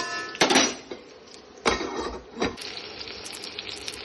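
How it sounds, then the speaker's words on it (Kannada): Drumstick pods cooking in oil in a pan for saaru, heard as a few loud bursts of sizzling and stirring clatter with quieter crackling in between, close by. "ಈಗ ನುಗ್ಗೆಕಾಯಿ ಬೇಯಿಸೋಣ ಚೆನ್ನಾಗಿ ಆಯಿಲಲ್ಲೇ."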